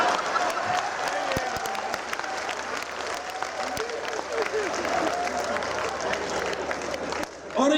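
Audience at a Hindi comic poetry gathering (kavi sammelan) clapping steadily and loudly for several seconds, a continuous crackle of many hands with some voices and laughter beneath, ending in a brief dip.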